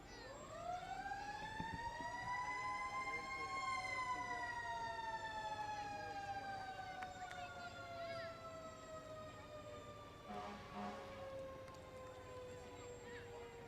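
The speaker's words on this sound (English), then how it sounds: "No burnouts in the fire engines." Fire engine siren in a small-town fair parade, a loud wailing tone that rises and slowly falls, with a short horn blast later and crowd noise beneath.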